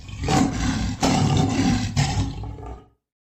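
A lion roars loudly in three close, rumbling bursts lasting about three seconds, heard alone up close and then falling silent.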